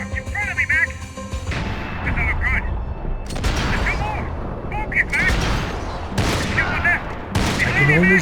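Gunfire in the video game Max Payne 3 rattles out in dense, repeated bursts and heavy booms throughout, loud and close, while game voices shout over the shooting.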